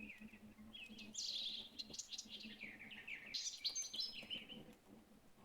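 A bird in The Witcher 3 video game chirps and trills in quick, busy bursts over a low ambient hum, with no one talking.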